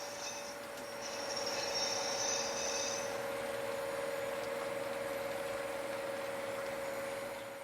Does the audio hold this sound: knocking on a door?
no